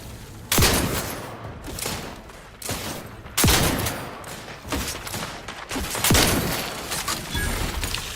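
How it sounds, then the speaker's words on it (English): Heavy gunfire in the video game Outer Worlds 2, a series of loud, booming shots spaced a second or so apart, each with a sharp crack and rolling tail over background combat noise. "Man, that's a good gun."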